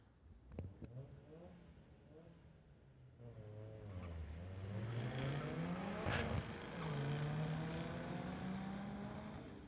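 Street-legal drag race between a Mazda and a Pontiac Ventura, engines revving on the line and then roaring off in a long, steady full-throttle run with rising tones, moderately distant under crowd and track ambience.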